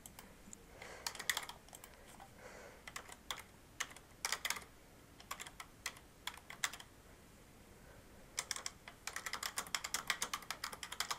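Quiet typing on a computer keyboard, clusters of quick soft key clicks with short pauses between bursts, faint and close with no talking.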